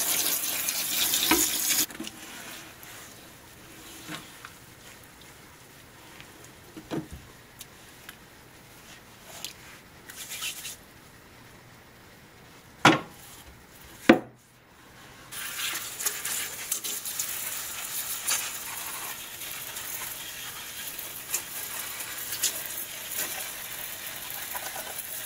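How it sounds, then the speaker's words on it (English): Water splashes and trickles over decor and glass walls while sand is washed down inside a 20-gallon turtle tank, a soft, continuous patter with a few sharp knocks midway and no talk. "what I'm doing right now is I am actually washing any excess sand off of our decor, off of the walls of the tank"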